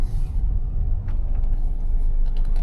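A taxi car rolls slowly into a residential courtyard in Dnipro, a low steady engine and tyre rumble close by, with a few light clicks and taps over it and no talking.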